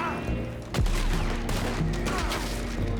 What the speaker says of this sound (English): Stop shooting! This is supposed to be quiet!